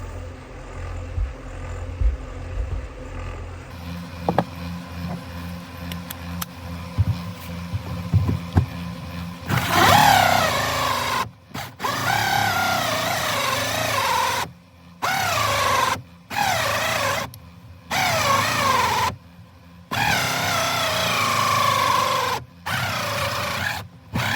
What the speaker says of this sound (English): I'm going to continue drilling